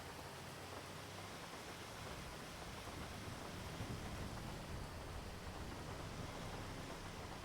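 Steady rain falling outside a tow truck, a dense continuous hiss with low rumbling underneath, moderately faint and unbroken with no voices.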